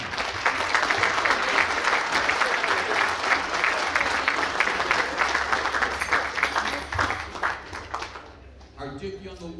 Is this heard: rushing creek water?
no